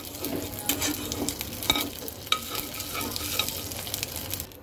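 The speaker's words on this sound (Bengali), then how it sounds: "মাছ ভাজা তেলের মধ্যে দিয়ে দেব গোটা জিরা ফোড়ন, একটা তেজপাতা, একটু ভেজে নেব" Whole cumin seeds and a bay leaf crackle in oil left over from frying fish, a continuous soft sizzle with small pops and stirring scrapes, alone without talk.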